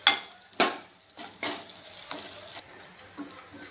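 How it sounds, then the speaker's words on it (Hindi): Almonds, cashews and makhana roasting lightly in ghee in a pan give a soft sizzle with a few sharp stirring scrapes and clinks, fairly close and alone with no talk. "इसमें से बादाम, काजू और जो मखाने हैं इसे हम हल्का सा घी में भून लेंगे।"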